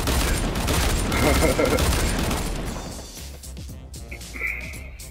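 A burst of rapid pistol gunfire in the video game Fortnite crackles loudly for about three seconds, then drops away to quieter scattered sounds and a brief electronic tone.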